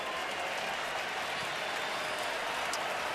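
Baseball crowd at a college game in Omaha, LSU against Arkansas, a steady roar of applause and cheering filling the stadium, continuous and fairly loud.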